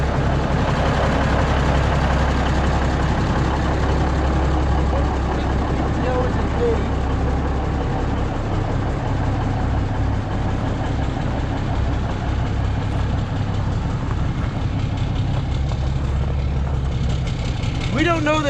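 A classic Freightliner truck engine idles steadily with a deep, continuous low rumble, close and loud, with a brief voice near the end.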